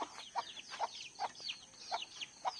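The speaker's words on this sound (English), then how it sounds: "Good morning, chickens." Chickens on a family farm giving short, soft clucks and chirps in a steady run of about six repeated bursts, moderately close, with no talking.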